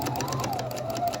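Sewing machine back stitching a COVID-19 fabric mask, a rapid even chatter of stitches with a slight whine, close and steady for about a second.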